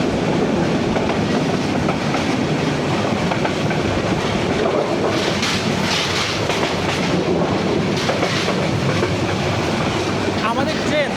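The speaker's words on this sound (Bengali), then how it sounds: "তখন তার সর্বোচ্চ গতি দিয়ে যাচ্ছে, মানে এখন এক কথায় তাণ্ডব চালাচ্ছে আমাদের রংপুর এক্সপ্রেস" The Rangpur Express runs at full speed on a dual-gauge line past Joydebpur, heard from on board as a loud, steady roar of wheels and rattling carriages with rhythmic clatter.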